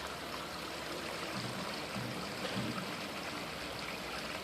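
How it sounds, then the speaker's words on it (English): A babbling brook fed by water pouring from a drain tile trickles and gurgles in a soft, continuous flow, faint and steady with no voices. "I trust you all have enjoyed this little short segment of the Babbling Brook."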